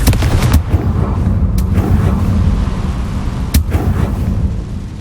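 A Confringo blast spell is cast in the Hogwarts Legacy video game. Loud, booming explosive bursts erupt close up, with a few sharp blasts over a continuous rumbling roar.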